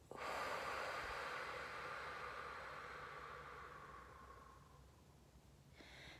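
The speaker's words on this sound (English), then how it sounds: "we're going to start by just taking a big deep breath in and a deep breath out." One deep, slow breath taken in and let out, a long airy rush of air heard close and soft that fades over several seconds before another breath starts.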